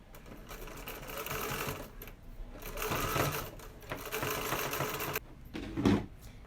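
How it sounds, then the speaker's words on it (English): Sewing machine top stitching the opening of a patriotic fabric pillow wrap closed, a steady close mechanical whirr running in bursts with brief pauses and a final short run. "And then just do a little top stitch to close up the opening."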